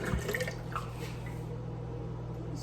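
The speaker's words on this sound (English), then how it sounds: "12 ounces of a liquid of your choice, half almond milk and half water." Half almond milk and half water, twelve ounces in all, is poured in a faint, steady trickle of liquid against quiet room noise.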